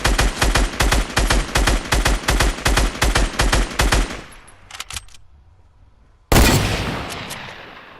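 Gunfire in Fortnite: a long, fast rapid-fire burst of loud, evenly spaced shots, then a few scattered shots trailing off into quiet, and finally one sudden heavy blast that fades slowly.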